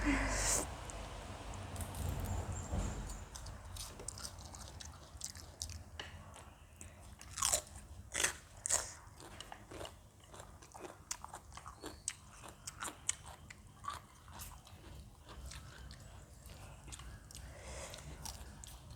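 Someone eating spicy Korean instant noodles, with close crunching, biting and chewing sounds in irregular bursts, accompanied by faint breathing and some background voices.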